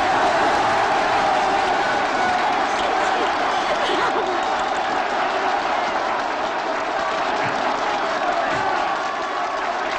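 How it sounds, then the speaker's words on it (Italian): A crowd gives loud, continuous applause with some cheering mixed in, a dense wash of clapping that stays strong and steady throughout, with voices faintly audible within it. "92 minuti di applausi!"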